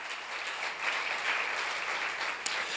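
Steady, dense applause from a seminar audience, many hands clapping evenly at moderate volume for the whole stretch with no break.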